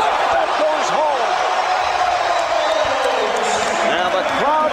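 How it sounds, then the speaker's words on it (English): A large arena crowd at an NBA All-Star Game roars and cheers continuously after a Michael Jordan basket, with sneaker squeaks cutting through and a commentator talking over the din. "And the crowd responds."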